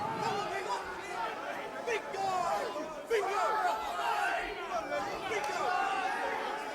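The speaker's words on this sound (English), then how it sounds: "The crowd so energised." The crowd at the Cage Rage 8 cage fight between Anderson Silva and Lee Murray keeps up a steady, energised roar and murmur, with commentators talking over it throughout.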